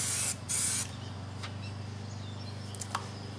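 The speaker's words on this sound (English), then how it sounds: "testing to make sure that my can is spraying all right" An aerosol can of primer gives two short test sprays, a brief sharp hiss, then a longer blast, before quiet with a few faint clicks and taps; the spraying comes up close and alone, with no talk.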